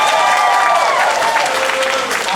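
Audience applause fills a political debate hall for Virginia's 7th District race, a dense, loud wash of clapping with some voices mixed in, steady throughout before easing slightly at the end.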